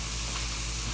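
Mushrooms sizzle in a hot cast iron skillet, a steady close hiss of frying that carries on without a break.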